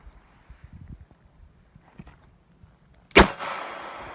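A single sharp, loud double-action revolver shot from a Colt Cobra or S&W 649 cracks up close, with a short ringing decay, after several seconds of quiet wind and faint rustling.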